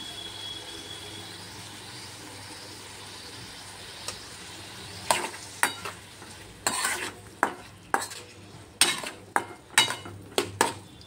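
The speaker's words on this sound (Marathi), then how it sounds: "छान असं परतवून घ्यायचं आहे टोमॅटो।" Tomatoes sautéing in a pan for an eggplant dish sizzle quietly, then a spoon scrapes and clanks against the pan in a run of sharp, irregular strokes roughly every half second, close and alone.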